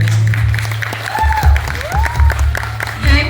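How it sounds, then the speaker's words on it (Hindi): Audience applause at an awards ceremony in Mumbai, heard as steady, dense clapping from a crowd that swells in short surges, with a sustained musical tone and faint voices underneath. "ये जो लड़के थोड़ी कम तालियां बजा रहे हैं, लड़कियां ज्यादा बजा रही है"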